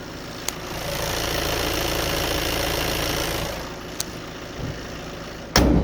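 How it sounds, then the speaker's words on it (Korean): A Volkswagen Tiguan diesel engine idles with the hood open, a low, even rumble close by, a few sharp clicks punctuating it and a louder thump at the end. "정말 부드러운 엔진 사운드 들어보실 수가 있고요"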